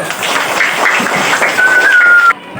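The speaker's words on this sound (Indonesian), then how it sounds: "tepuk tangan dulu" Children in a classroom clap their hands together in one loud, dense burst of applause that lasts about two seconds, then cuts off abruptly.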